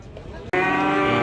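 Cattle moo at the Bojonegoro cattle market, one loud, close, sustained low bellow that starts abruptly after a brief quieter stretch of market noise.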